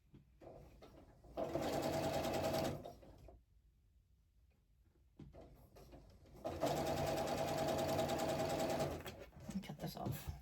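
Two bursts of close sewing machine stitching as 9-patch blocks for a 1776 quilt are fed through, a fast even whir lasting a couple of seconds each, separated by a quiet pause.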